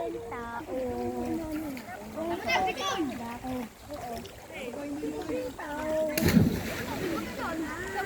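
A person jumps from a rock into the water at the Olo Olo Mangroves forest beach, one sharp splash cutting through near, continuous chatter of adults and children.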